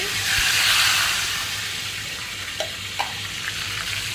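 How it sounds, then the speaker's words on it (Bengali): Cloves, peppercorns, bay leaf and cinnamon fry in hot oil with a loud, bright, steady sizzle that eases slightly, while a few soft knocks of stirring break through. "গরম মশলাগুলো এগুলো তো দিতেই হবে তো এগুলো একটুখানি ভেজে দেন"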